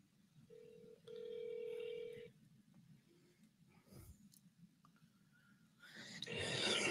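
A phone is dialed at a house party: a short electronic beep and then a longer steady tone sound quietly over a low background murmur, with louder rustling noise near the end.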